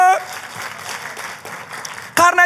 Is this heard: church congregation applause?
yes